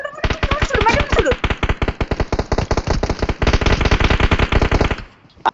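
Rapid automatic gunfire in a shooting video game, a long, loud, close string of evenly spaced shots rattling for about five seconds before stopping abruptly.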